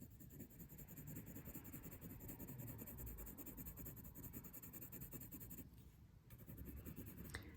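Steady dry scratching of a colour pencil lightly shading on paper, close and continuous with a brief dip near the end, no talk.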